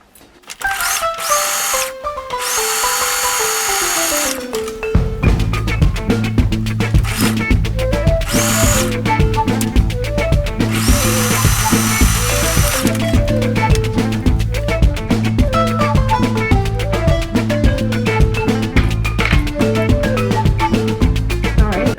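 A sewing machine stitches fabric mask pieces together in rapid, rhythmic bursts of mechanical clatter, with short pauses between runs and one long continuous stretch, heard close and loud.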